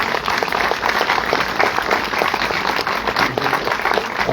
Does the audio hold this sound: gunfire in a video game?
no